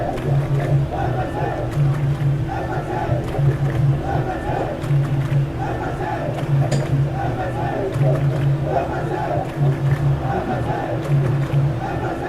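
A football video game stadium crowd roars continuously with rhythmic chanting swells, while a commentator talks over the top throughout.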